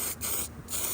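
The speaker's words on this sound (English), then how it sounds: "I'm gonna cover this all up with weld through primer" Aerosol can spraying weld-through primer onto bare car body metal, a loud, close hiss in bursts with two brief pauses.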